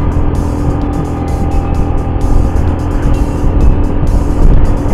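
Car engine under load climbing a steep, narrow rural road in Wonosobo, a continuous close rumble with steady throttle and road noise throughout, no talking.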